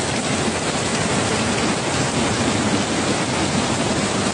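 Heavy rain pours down during a flood in Jamaica, a dense, loud, unbroken roar that holds evenly throughout with no voices.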